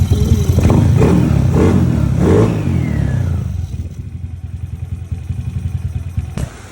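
A motorcycle in a repair shop revs through several quick throttle blips, loud and close, then settles into a lower rumbling idle with a sharp clatter near the end.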